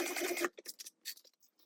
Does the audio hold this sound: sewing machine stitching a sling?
yes